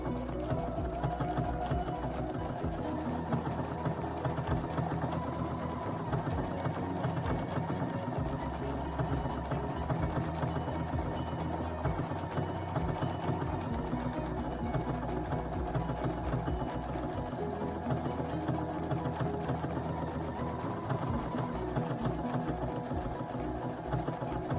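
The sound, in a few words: Viking sewing machine embroidering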